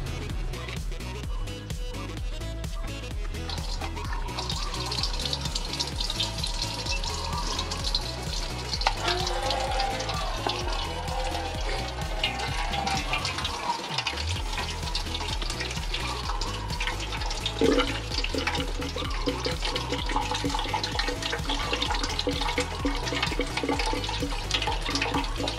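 Distilled water draining out of a Raider 150 motorcycle radiator makes a steady, continuous splashing and trickling stream that holds at moderate loudness throughout.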